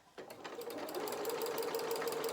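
A sewing machine stitches a curved leg seam on a soft toy bear, starting after a brief pause and then running steadily with a continuous close whirring hum and a rapid needle rhythm.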